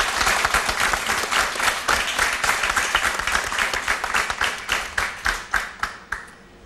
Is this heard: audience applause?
yes